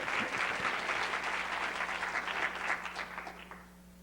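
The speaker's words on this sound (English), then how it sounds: "He's entitled to some applause, actually." Audience clapping at a minority health conference lecture, steady applause from a sizeable room that fades out near the end, fairly distant, with a low hum underneath.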